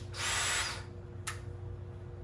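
A power drill on its hammer setting drilling a hole, one close, loud burst of under a second followed by a very short second blip, then quiet hum.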